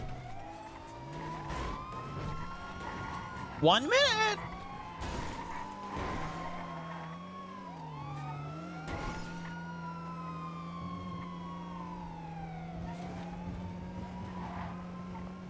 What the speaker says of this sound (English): Why are there so many siren sounds?